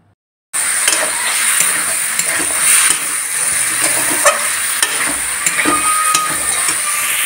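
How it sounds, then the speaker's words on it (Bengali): Oil heating in a pan for cooking dal bursts into a loud, continuous sizzling hiss after a brief silent start, with crackling pops scattered through it, close by. "ডাল ঢোকার জন্য তেল গরম করতে দিয়েছি।"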